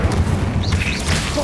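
Incendio fire spell cast in Hogwarts Legacy, a loud booming burst of flame with a rumbling low end and crackling swells, close and full over ongoing game sound.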